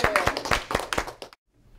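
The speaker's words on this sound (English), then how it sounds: "give them a clap for each other" A small stop-smoking class clapping for each other, a quick burst of close, uneven hand claps that stops abruptly, followed by near silence.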